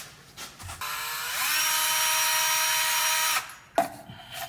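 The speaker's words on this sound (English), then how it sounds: "So you just run a screw through it" Power drill driving a screw through a washer, whirring up to a steady high whine for a couple of seconds, then stopping, followed by a short second burst, close and alone.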